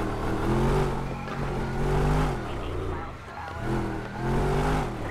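Engine of a car driven in GTA 5 drones and revs in rising and falling surges, loud and continuous, with a brief dip before it climbs again.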